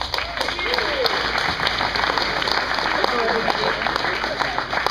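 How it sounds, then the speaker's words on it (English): A room full of people clapping steadily, a dense wash of applause that holds at an even level throughout, with a few voices mixed in. "let's give her a big round of applause"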